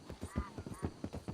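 Horse hooves clip-clop in a steady rhythmic gait in Red Dead Redemption 2, about eight close, distinct hoofbeats with a brief whinny-like tone partway through.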